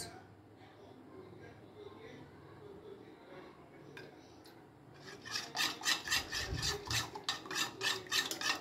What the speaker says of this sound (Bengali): এটা ভালো করে মিশিয়ে নিলাম।